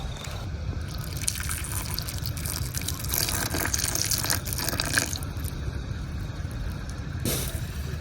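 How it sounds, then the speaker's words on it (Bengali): Sugar syrup is poured over homemade kalojam sweets in a bowl, a steady close liquid trickle and splash running throughout with a few brief louder gushes. "এখন বাকি যে শিরা টুক আছে এই শিরাটাও আমি এই মিষ্টির উপরে ঢেলে দিলাম।"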